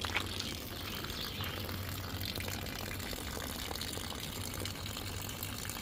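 Water rushes steadily through a Vevor 4.5 kW steam generator as it flushes while draining, a faint, even gushing hiss with a low hum beneath and no speech.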